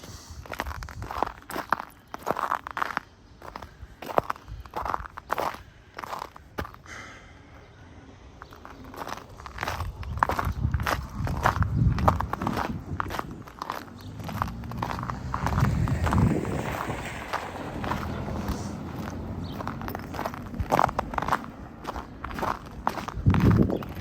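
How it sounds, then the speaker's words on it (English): Footsteps crunching over rough icy ground on a cold February walk around a lake in Regina, a steady close rhythm of crisp crunches throughout, with no talking. "Without the external mic, you can hear the crunching noises better."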